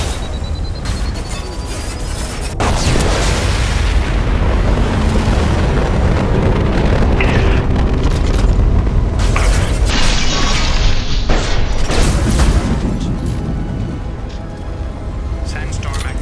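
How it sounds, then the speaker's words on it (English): A sustained rumbling blast and crashing debris in Mass Effect 2, loud and close, rolling on for several seconds with sharp pops and mechanical clatter, while voices speak over it. "It's about to explode!"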